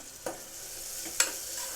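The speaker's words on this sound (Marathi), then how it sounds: "कांदा व्यवस्थित परतून घ्यायचा आहे मऊ होईपर्यंत" Onions sautéing in hot oil in a pressure cooker, giving a soft continuous sizzle broken by two sharp scraping clacks from stirring.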